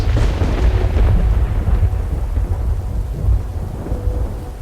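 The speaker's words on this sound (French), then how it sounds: "J'aime la pluie, ça me distrait." Steady rain with deep, rolling thunder rumbling throughout in the video game Fractured Mind, loud and continuous, with no voices.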